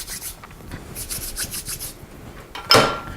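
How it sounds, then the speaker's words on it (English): Savory scone dough is patted out by hand on a work surface, giving soft, muffled, closely spaced pats and light rubbing, with a brief louder scuff near the end. "using the minimal amount of handling possible, pat it out"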